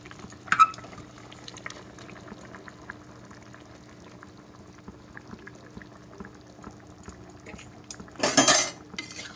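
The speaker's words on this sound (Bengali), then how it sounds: "ঝোলটা ফুটে গেছে, এবার আমি ফুলকপি ভাজা আর ডিমটাও দিয়ে দেবো।" Curry broth with fried cauliflower and duck eggs simmers in a pot, a faint low bubbling under clinks of utensils, ending in a louder rush as ingredients are poured in.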